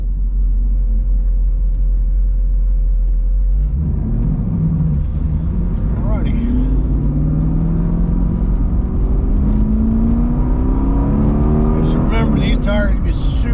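A BMR-equipped sixth-generation Camaro pulls out onto a road course: a steady low idle rumble gives way to loud, close engine revs that climb and fall in repeated sweeps as it accelerates, with a sharper rise of revs near the end.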